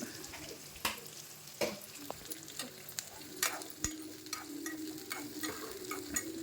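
Fenugreek seeds and pepper fry in hot oil with a soft, continuous sizzle, punctuated by sharp intermittent pops and clicks of utensils or spluttering seeds, close but fairly quiet.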